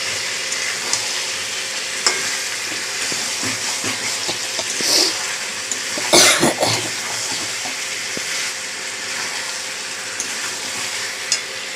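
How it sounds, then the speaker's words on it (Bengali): Potatoes sautéed in oil for spicy chicken kosha, a continuous bubbling sizzle close up with scattered scraping and stirring knocks and a louder burst partway through, no voices. "আলুটা দিয়ে বেশ খানিকটা কষাবো"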